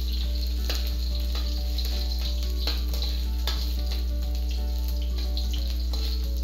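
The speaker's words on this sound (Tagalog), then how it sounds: "pag yung mainit na itong mantika, is, igisa muna natin itong luya" Ginger sautéing in hot oil for a Filipino coconut-milk tuna dish (ginataang tulingan): a steady, close sizzle with scattered crackles and pops over a constant low hum, no voices.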